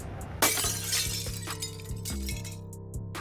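Glass shatters from resonance under sustained vibration, giving a sharp breaking crash followed by scattered tinkling and clinking fragments over a steady background tone.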